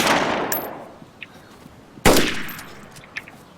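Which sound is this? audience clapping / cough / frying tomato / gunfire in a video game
gunfire in a video game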